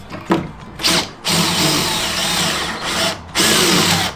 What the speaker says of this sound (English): I just let the drill do the work.